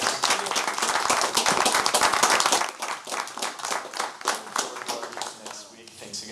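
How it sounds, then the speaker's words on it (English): A student senate meeting room breaks into a round of applause, dense at first and then thinning into scattered claps that trail off. "Give them a round of applause"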